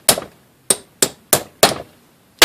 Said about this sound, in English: Let's get that nail punch in there.